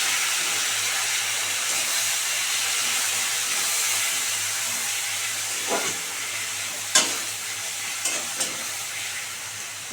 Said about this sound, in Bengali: পেঁয়াজের সময় এই যে কচু পাতাটা দিয়ে দিচ্ছি ভাপানো।